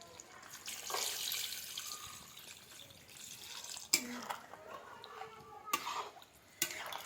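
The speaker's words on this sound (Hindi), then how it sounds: "अब इसमें पानी डाल रहे हैं।" Water splashes and pours into a pot of goat meat, with a few sharp clanks of metal cookware and quieter dripping between them.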